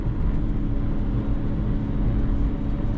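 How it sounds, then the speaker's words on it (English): A loaded semi's engine labors at low revs on a steep climb along Colorado's Million Dollar Highway, US 550, a steady close drone with a deep rumble and no gear change audible, alone. "there you can hear the engine"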